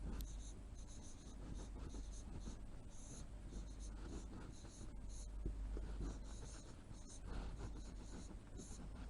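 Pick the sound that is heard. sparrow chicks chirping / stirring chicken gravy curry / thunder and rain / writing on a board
writing on a board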